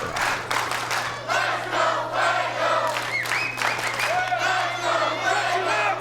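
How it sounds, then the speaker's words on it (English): A wrestling arena crowd chants loudly and rhythmically for wrestler Fuego del Sol during a Matt Hardy match, with cheers and whoops layered throughout and an electrical hum beneath. "An entire crowd chanting the praises of the one and only Fuego del Sol"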